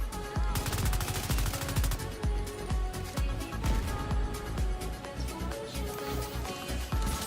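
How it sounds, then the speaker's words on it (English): Gunfire in The Division 2, dense rapid automatic bursts and overlapping shots rattling close and loud without pause throughout. "who's shooting at me over there?"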